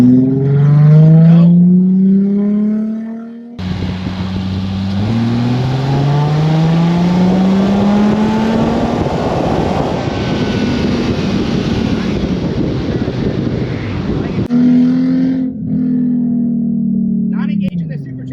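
A supercharged Mercedes SLK320 engine revs up and holds a loud, rising roar while driving, with wind buffeting, then drops back toward idle.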